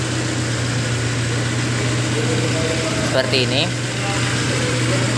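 The engine of a 1990 Honda Grand Civic idles with a steady, low, even hum, close by. Someone speaks briefly over it.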